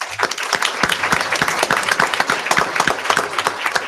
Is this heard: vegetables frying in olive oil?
no